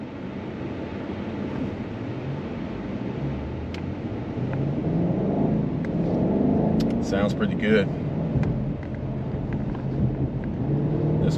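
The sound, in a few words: BMW M850i 4.4 liter V8 twin turbo engine accelerating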